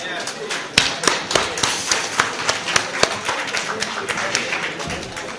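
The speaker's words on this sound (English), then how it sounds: "Let us give a loud applause for it." Scattered applause at a company friends' golden jubilee celebration: sparse, irregular individual claps ringing out one after another rather than a dense roar.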